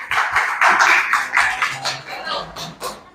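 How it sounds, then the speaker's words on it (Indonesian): Classroom of students clapping for a group that has just finished presenting, several uneven bursts of close, fairly loud claps with some shuffling, lasting about three seconds. "Berikan tepuk tangan untuk kelompok 1."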